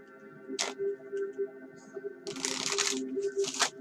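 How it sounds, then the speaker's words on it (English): Tarot cards being shuffled by hand in three short papery riffling bursts, the longest in the middle, over a steady low electrical hum. "Well, I'm still shuffling."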